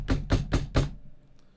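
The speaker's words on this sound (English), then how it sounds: "a knocking" Four quick, evenly spaced knocks on a closet door, close and fairly loud, followed by quiet.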